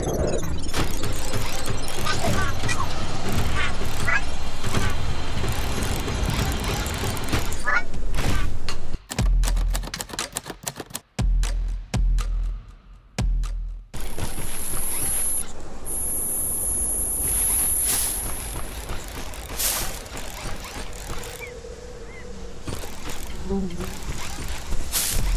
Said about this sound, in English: there's several layers of Foley that bring StackoBot to life